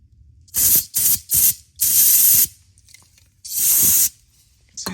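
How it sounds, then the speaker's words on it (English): Brake cleaner sprayed onto a Chevrolet LS1 V8 engine block in a Corvette, heard as five separate hissing aerosol bursts of varying length, loud and close, with short gaps of quiet between them. "I'll hit this with some brake cleaner and you can really see the difference here."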